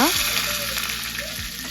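Mustard seeds and curry leaves hiss and crackle loudly in hot oil, a tempering for fermented rice, heard as a dense, continuous sizzle over a short moment.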